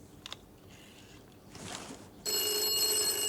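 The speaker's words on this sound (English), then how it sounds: "And it's ringing in the studio." Telephone ringing in a 1970s television studio, a bright steady electronic ring that starts suddenly partway through after faint clicks and rustling, continuing loud and unbroken to the end.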